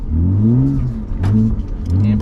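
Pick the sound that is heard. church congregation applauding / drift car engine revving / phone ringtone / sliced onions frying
drift car engine revving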